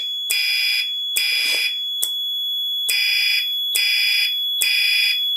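Synchronized Gentex fire alarm horns with tape over them blare in loud, shrill, buzzy pulses, six bursts in an even on-off pattern with a faint tone continuing between them.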